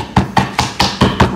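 A hammer cracks hazelnuts on a wooden board, six sharp, loud, close blows falling in a steady rhythm about a fifth of a second apart, with no talking over them.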